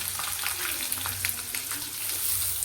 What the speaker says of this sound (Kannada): ಫಸ್ಟ್ ಆನಿಯನ್ ನೀಟಾಗಿ ಫ್ರೈ ಮಾಡ್ಕೋಬೇಕು